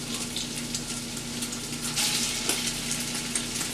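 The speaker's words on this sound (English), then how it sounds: "Let's take our ground turkey and in small batches put it in there and break it up while you're dumping it in the pot." Ground turkey sizzles and fries in a hot pot, a steady close crackling hiss with occasional stirring scrapes.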